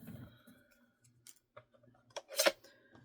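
Scissors snip through scrapbooking paper in a quiet room, a few sparse, crisp cuts with faint paper rustles in between and the loudest snip near the end.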